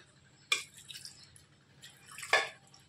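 Water poured into a cooking pot of chickpeas, arriving as two brief, close splashing gushes with soft dripping between them.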